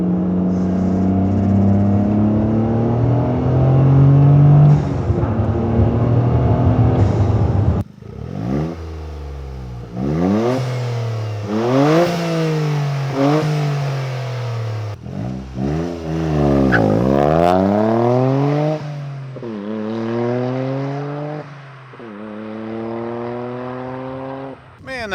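A Toyota GR Corolla with an Invidia high-flow downpipe exhaust drones steadily, then accelerates hard through the gears in a run of loud, close rising rev sweeps, each cut short by a shift. Voices may murmur near the start.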